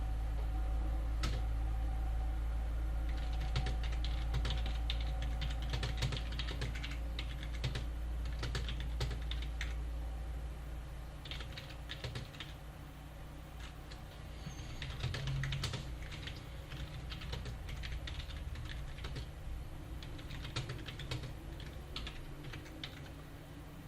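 Fingers type a message on a computer keyboard, with quiet irregular clicking bursts and short pauses over a low steady room hum.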